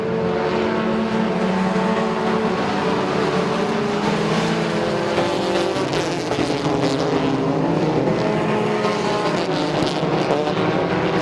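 Several race cars battle on a speedway track, their engines roaring loudly and continuously as they pass close, with overlapping pitches shifting and layering throughout.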